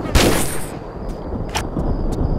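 Revolver gunshots in the video game Tomb Raider 4, a sharp loud blast followed by several lighter, shorter shot-like cracks spread over a couple of seconds amid game ambience.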